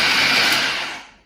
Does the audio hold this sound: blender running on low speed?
yes